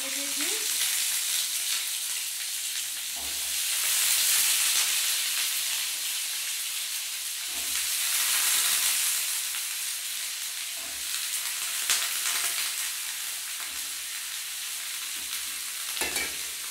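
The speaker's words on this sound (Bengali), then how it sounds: "এটা একটু ছ্যাট ছ্যাট করছে" Wet diced papaya and potato spit and sizzle loudly in a hot pan, a constant crackling hiss that swells and fades, with occasional soft knocks of a spoon stirring.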